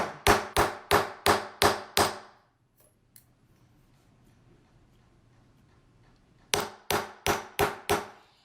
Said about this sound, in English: when you're hitting it in the center, you want to hit it dead on